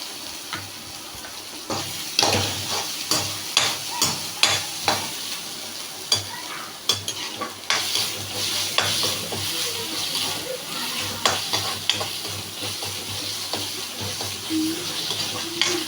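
Green chilies sauté in a hot pan while being stirred for a chicken curry, a steady sizzle broken by regular scraping stirs, close and moderately loud.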